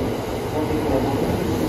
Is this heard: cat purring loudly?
no